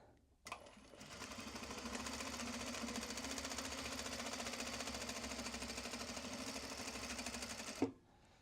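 Sewing machine stitching Japanese fabric for accessories or bags, a steady continuous mechanical whir running for several seconds at close range before stopping with a click, no talking.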